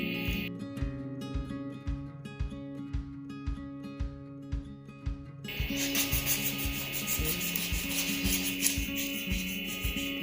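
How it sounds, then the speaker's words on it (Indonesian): Coarse sandpaper rubbed over hardened dental plaster, heard as close, regular rasping strokes at a steady rhythm, softer and spaced at first, then a denser, louder scraping layer as the work continues. "saya menggunakan amplas yang kasar dulu"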